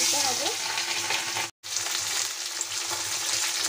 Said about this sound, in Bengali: এখন গরম তেলের মধ্যে আমি মাছগুলো দিয়ে দেব।